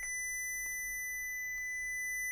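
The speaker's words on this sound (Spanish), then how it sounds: "en teoría debería sonar la alarma también" Continuous electronic alarm tone at about 2 kHz from a motion-detection timer circuit, steady and fairly faint, with no talk.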